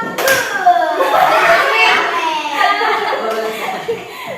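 A group of schoolchildren in a classroom claps out a rhythmic chant, claps mixed with chanted voices and some chuckling.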